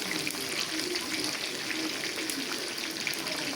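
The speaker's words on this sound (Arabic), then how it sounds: "وهنحط مرق الدجاج." Chicken broth pours into a pot of okra stew, a steady close splashing gush mixed with a light sizzle, continuous for the whole moment with no speech.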